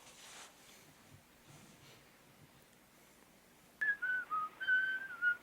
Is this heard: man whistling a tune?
yes